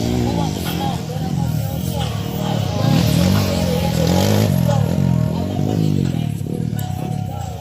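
A Kawasaki KLX 140 dirt bike engine drones and revs steadily at an intermediate enduro motocross competition, loud and close, with rattling clatter and people talking over it.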